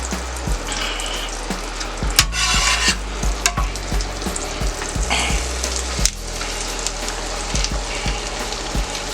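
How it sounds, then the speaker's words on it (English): Onions sizzle steadily on a Steelmade USA flat-top griddle, with a constant frying hiss broken by repeated scraping and tapping of a spatula against the steel surface. "All right, let's get those onions on here."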